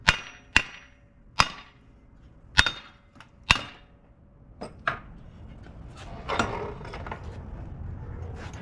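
Several sharp hammer strikes ring out at uneven intervals during a Dana 60HD axle rebuild, close and distinct, followed by softer clattering and shuffling.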